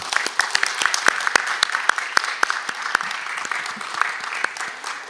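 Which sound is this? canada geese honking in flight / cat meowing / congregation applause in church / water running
congregation applause in church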